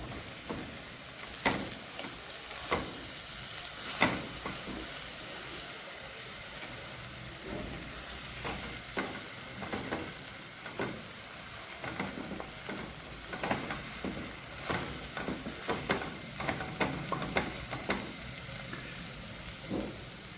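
Fenugreek leaves sautéing in a pan on a gas stove for a methi thecha, with a steady close sizzle and frequent clicks and scrapes as the leaves are stirred.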